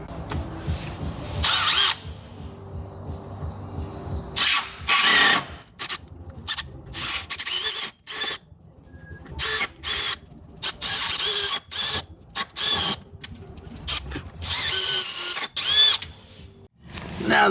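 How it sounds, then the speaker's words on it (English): A power drill boring out a Corvette ZR1's subframe bolt holes, loud grinding bursts of a few seconds each, stopping and restarting repeatedly at close range. "Now that the holes are all drilled out nice and straight"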